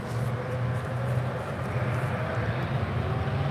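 KLM 282, a heavy airliner, taking off at San Francisco International Airport: a steady, loud, broad jet engine roar with a strong low rumble, holding constant throughout with no voices.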